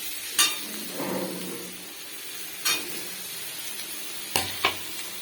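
A steady, soft sizzle of beans and peas frying in a pan, with a few sharp clinks of a spoon stirring against the metal.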